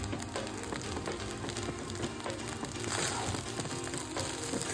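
Mint pulao rice with coriander being stirred in a pan, a steady, close, soft scraping and light sizzle running throughout with no talk.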